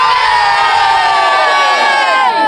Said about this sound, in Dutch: En nou nog even heel hard juichen.